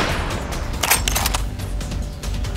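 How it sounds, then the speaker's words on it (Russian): Gunfire in a Minecraft-built PUBG battle royale game, a rapid burst of sharp, loud shots in quick succession followed by a few scattered cracks, with no talking. "Попробую поприманивать ее выстрелами."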